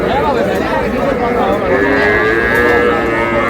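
Young bull calf lowing at a busy cattle market, loud continuous moos close by over a dense background of crowd chatter and voices.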